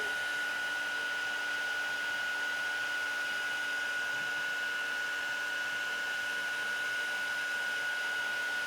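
A heat embossing tool blows hot air to melt embossing powder, a constant loud whirring fan hum with a steady whine, unbroken for the whole stretch with no talking.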